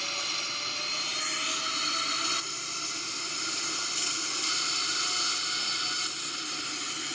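Boeing 777-300ER engines spooling at takeoff power in a flight simulator game, a steady, loud, broadband jet roar that holds constant throughout, with a slight shift in tone partway.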